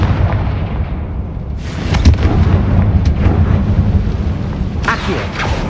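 Confringo fire spell blast in Hogwarts Legacy, a loud, sustained booming rumble with crackling bursts that rolls on for several seconds like thunder.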